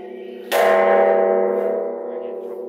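A church bell in Penang strikes once with a loud, sharp onset, its ringing tone sustaining and slowly decaying over a couple of seconds, heard alone without talk.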